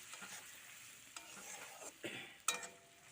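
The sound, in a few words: stirring food frying in a pan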